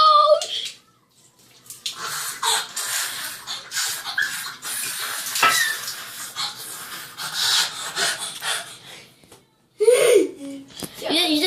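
Cold water splashes and pours over a person in bursts, a loud rushing wash that stops, then returns briefly near the end, with gasps and voices around it.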